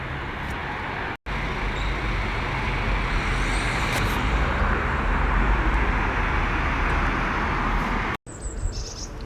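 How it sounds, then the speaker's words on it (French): Road traffic on a nearly empty town street during lockdown, a continuous broad rushing hum of passing cars heard from a balcony, with faint bird chirps above it and brief cuts at the start and end. "Quelques voitures qui passent quand même"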